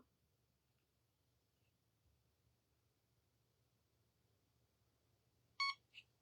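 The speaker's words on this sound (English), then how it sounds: "Did you hear the beep? When it beeps, let go." A short electronic double beep from a heated eyelash curler near the end, close and clear, after several seconds of quiet low hum.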